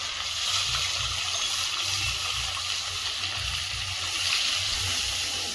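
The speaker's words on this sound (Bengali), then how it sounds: "জল দিয়ে দেবো।" Water poured into a small pan of browned, simmering meat gives a steady, close gush and bubbling that holds at an even level throughout.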